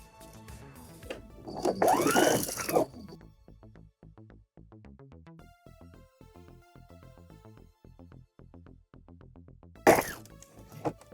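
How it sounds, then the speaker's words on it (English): Sewing machine stitching around a gathered skirt lining with the gathers face up. Two loud whirring bursts of stitching are separated by a quieter stretch of rhythmic mechanical ticking. "I'm gonna work my way all the way around, and I am sewing with the gathers face up"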